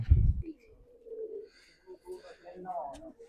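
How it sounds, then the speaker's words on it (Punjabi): Champion racing pigeons coo in soft, low, murmuring phrases close by, opening with a dull thump and continuing in short bursts. "ਵਧੀਆ ਕਬੂਤਰ ਆ ਇਹਨਾਂ ਦੋਨਾਂ ਕੋਲ"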